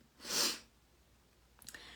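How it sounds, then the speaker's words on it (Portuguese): A single sharp sneeze bursts out close by, followed by a quiet pause and a brief sniff. "que vontade de espirrar"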